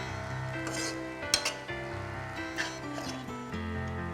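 Millet rice being sautéed with pepper, cumin and urad dal in a pan, giving a steady sizzle with scraping stir strokes and a few sharper utensil clinks throughout.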